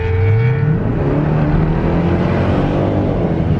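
Dodge Durango Hellcat engine revving hard beneath an overpass, a loud rising roar with whine and echoing rumble, close and continuous with no talking.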